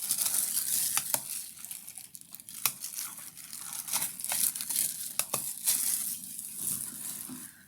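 Boxes of press-on nails being unwrapped by hand, continuous crinkling and rustling of plastic wrap with sharp crackles and tearing, close and steady.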